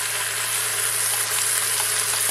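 Onions dropped on top of pork browning in a pan give a steady, dense sizzle, loud and close, with a faint hum underneath and nobody speaking.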